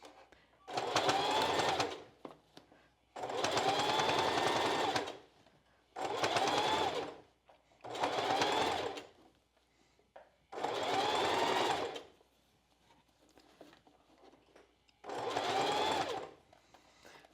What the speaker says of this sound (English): we're just going to sew right on the very edge